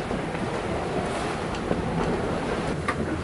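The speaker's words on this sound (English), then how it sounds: "the water's getting bigger out here and the waves are getting rolly" Building sea waves around an Island Packet 38 sailboat under way, a steady wash of water and wind rushing past with faint slaps against the hull, continuous and close, with no voices.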